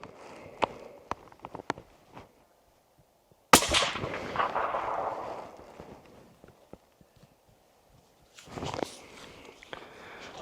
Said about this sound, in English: For a little lightweight rifle, this rifle likes to shoot really straight.